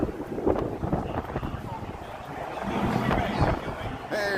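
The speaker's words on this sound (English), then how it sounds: "It's pretty windy." Wind buffets the microphone on a busy Wrigleyville street in Chicago, a low rumbling gusty roar that rises and falls over about four seconds, with faint background voices.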